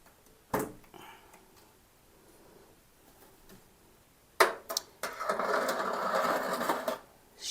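Onion slices rattle and rustle as a dehydrator tray is lifted out and shaken, a short clatter early on, then a sustained loud shuffling burst lasting a few seconds near the end.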